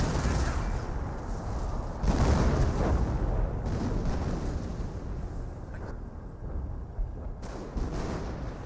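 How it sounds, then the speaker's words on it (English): Hummel self-propelled artillery shots and explosions rumble through a Company of Heroes battle, a dense, continuous barrage of deep booms and bursts with no pauses. "That's definitely a Hummel shot there."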